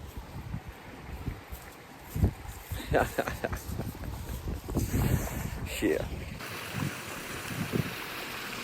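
Cold winter wind gusting outdoors during a yard cleanup, a steady rushing roar buffeting the microphone with scattered thumps, while a person speaks over it.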